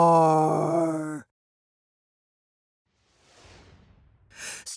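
A person's voice imitates snoring during a children's read-along: a drawn-out, moaning intake, then a pause and a softer, breathy rasping exhale that builds toward the end.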